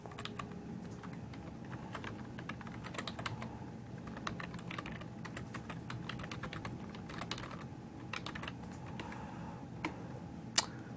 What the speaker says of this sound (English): And then I'm going to type in my URL.